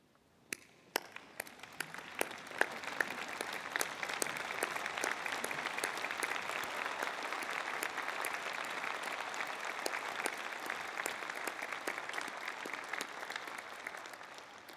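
Sustained applause from a convocation audience at a university management school ceremony, rising quickly after a few scattered early claps and holding steady and dense until the end.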